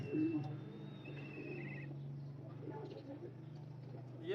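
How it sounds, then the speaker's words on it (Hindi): A rare show pigeon coos in a low, steady, droning tone, quiet and continuous, with faint background sounds and occasional higher chirps. "बहुत ही लाजवाब कबूतर है।"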